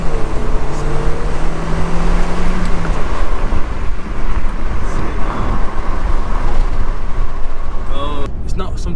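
An Audi A3 1.8T with 180,000 miles accelerates in first gear, giving a rising engine tone under loud road and wind rumble, with a short gear-change dip near the end; no one talks.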